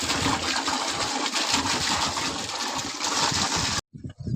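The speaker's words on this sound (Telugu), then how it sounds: "డ్రమ్ కడిగేసి నీళ్ళు అయితే పడుతున్నాను ఫ్రెండ్స్." Water pouring into a freshly washed drum on a farm, a loud steady gushing splash that runs continuously for several seconds, then cuts off abruptly into near silence.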